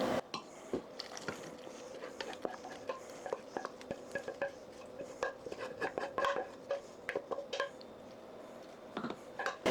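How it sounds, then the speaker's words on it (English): Gooey casserole filling being scraped and dumped into a casserole dish for a Thanksgiving meal, with close wet squishes and spoon scrapes and clinks against the dish in irregular bursts. "Let's dump that into our casserole dish."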